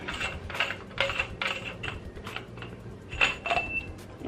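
A coilover part on a second-generation Mitsubishi Eclipse being unscrewed with a ratchet, giving close bursts of rapid clicking with brief pauses between the turns.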